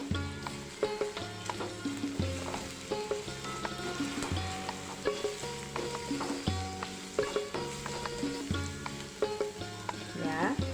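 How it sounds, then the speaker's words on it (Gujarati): Shredded cabbage added to capsicum frying in a pan for fried rice, sizzling steadily with stirring scrapes throughout, close and fairly quiet over a bed of background music. "હવે આપણે આ કોબીજ એડ કરી દઈએ."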